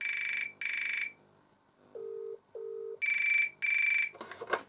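A 1980 GPO R82 Special Range Mickey Mouse dial telephone with its bell set to the softer setting rings in two paired bursts, a brief pause between them, fairly faint and slightly less shrill, then a short clatter at the end.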